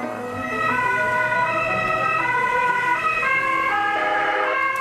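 Loud, continuous ambulance siren wailing in a steady rising and falling pattern, close and alone, without any talk.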